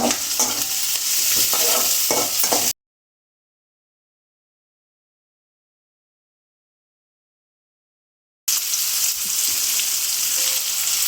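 Dried red chillies, curry leaves and garlic fry in hot oil with a steady crackling sizzle and the scrape of stirring, heard in two short bursts separated by a long stretch of silence.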